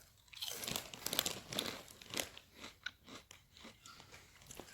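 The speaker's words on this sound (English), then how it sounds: "so if you can get that crunch out of a pack of Red Rock Jelly or similar baked fried chip after having been open for over 24 hours" Loud, close crunching of a stale baked fried chip from a bag left open over a day, a run of brittle crackling bites and chewing with no talk.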